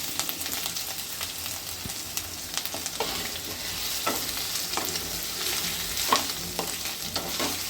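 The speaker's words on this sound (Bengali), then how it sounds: "তো আদাটা একটু একটু ভাজা ভাজা হয়ে গেলে পরে" Ginger paste fries with golden-fried potatoes in a pan while preparing a bottle gourd dish, making a steady soft sizzle with repeated scraping and clicking of a spatula stirring, fairly quiet and with no talking.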